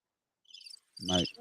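A quick run of high, thin cricket chirps from a sound effect, then a short burst of a lower buzzy tone; brief and fairly close.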